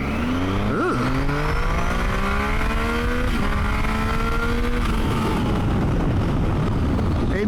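A Triumph Tiger 800XC adventure motorcycle accelerates hard from a standstill, its engine note climbing in pitch through several gear changes, then fading into rushing wind and road noise as it brakes, heard close with no talking.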